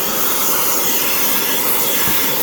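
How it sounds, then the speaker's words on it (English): A vacuum cleaner sucks dust out of a paint booth filter, giving off a loud, steady, broadband roaring hiss that holds constant throughout. "usually we're going to start with our cleaning procedure for our paint booth, which involves vacuuming out the filter"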